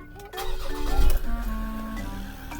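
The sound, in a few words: car engine starting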